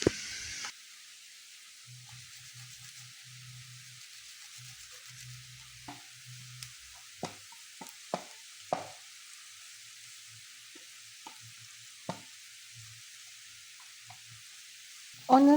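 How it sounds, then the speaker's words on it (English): Onions and garlic sizzle steadily in a pan for coconut chicken curry, with a broad hiss running throughout and scattered scrapes and taps of a utensil stirring them at irregular intervals, the clatter growing louder near the end; no one speaks. "I'm going in with my onions and I'm going to cook them until they become fragrant."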